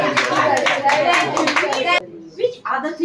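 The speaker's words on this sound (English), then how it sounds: "You can raise your hands and you can clap." Scattered audience clapping at a church service, a few loud rhythmic claps mixed with someone talking, cutting off abruptly and followed by brief faint voices.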